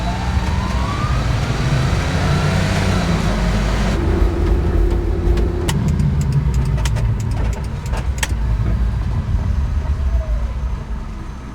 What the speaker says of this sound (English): when you're pressing the gas, it legitimately sounds like you're turning on a lawnmower